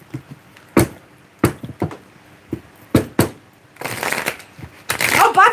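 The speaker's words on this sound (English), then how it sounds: "Give these cards a good little shuffle." A deck of tarot cards being shuffled by hand in a series of crisp riffling bursts separated by short pauses, ending in a denser run of rapid card flutters.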